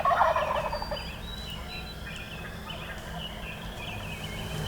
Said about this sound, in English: Sitting here this morning just listening to these birds gobble all around us